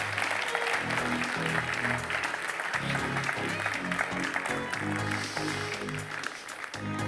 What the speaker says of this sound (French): On peut les applaudir bien fort pour les ramener à leur place